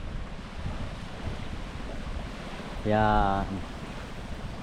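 Surf washing onto Burawan Beach in Quezon, a steady broadband wash of waves with wind buffeting the microphone throughout, while someone speaks briefly near the end.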